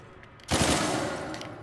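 A single sharp gunshot in Uncharted 4, a loud sudden blast followed by a long rumbling, crackling tail as objects clatter; no voices.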